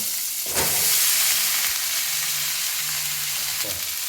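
Carrots and cauliflower fry in a pan for a thin fish curry, making a loud, continuous hissing sizzle up close, with a couple of stirring scrapes and no voices.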